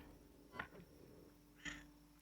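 A hungry pet cat lets out two short meows close by, about a second apart, over a quiet background hum.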